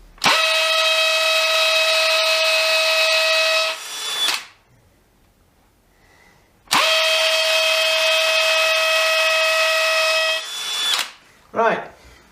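A DeWalt DCD996 cordless hammer drill in hammer mode boring with a 6 mm bit, two loud sustained whining, rattling bursts of about four seconds each separated by a short pause, then a brief spin-up at the end.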